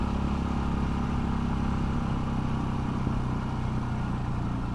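A Yamaha Tenere 660 motorcycle engine holds a steady mid-revs drone at roughly 4,000 to 5,000 rpm, loud and close, with a continuous rumble and no voices.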